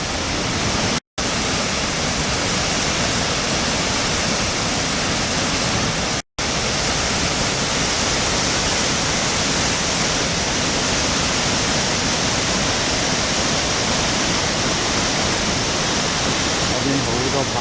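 Hukou Waterfall on the Yellow River roars loud and unbroken, a dense wash of falling water heard from close by, with two very brief dropouts.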